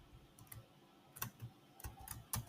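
A computer keyboard being used for an Excel shortcut, a few soft, quick key clicks spaced irregularly, faint and close, with no speech.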